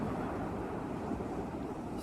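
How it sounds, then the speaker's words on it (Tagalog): Steady, heavy roar of strong ocean surf and rushing water at Siargao with wind buffeting the microphone, continuous and close, no voices. "At saka malakas ang alon, oh."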